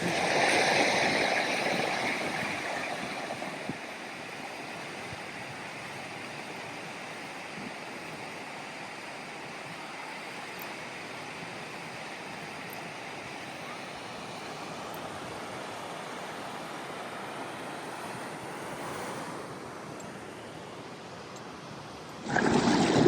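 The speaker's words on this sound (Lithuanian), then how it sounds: "Čia toks taip krioklys, tekantis vanduo, upė kalnų." A mountain stream rushes steadily nearby in the Slovak mountains, a continuous broad roar of flowing water, louder at the start and end.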